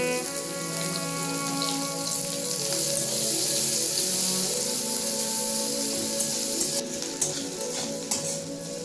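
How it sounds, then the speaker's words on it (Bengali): A large chopped onion fries in oil with cumin seeds in a pan, giving a continuous close sizzle and crackle, with a few spatula scrapes and clinks near the end. "পেঁয়াজটা হালকা করে ভেজে নেওয়া হয়ে গেছে"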